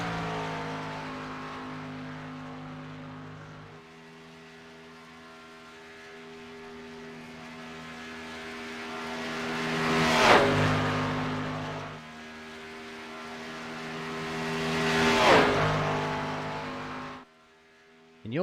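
A race car laps Daytona in a sim racing game, its engine holding a steady, tonal whine that swells and fades as it passes through the banked tri-oval, with faint commentary beneath.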